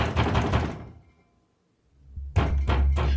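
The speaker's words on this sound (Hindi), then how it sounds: "उसने बाथरूम का दरवाजा कई बार पीटा" Heavy thuds of fists pounding on a closed bathroom door, a dull booming burst that fades into near silence, then a fresh run of loud, close knocks.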